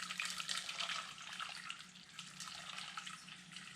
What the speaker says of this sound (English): And then now we add the boiling water.